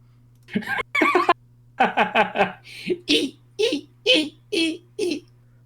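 A person vocally imitates a horse, giving a string of rapid whinnying, squeaky bursts in a steady rhythm, like a neigh crossed with a squeaking toy.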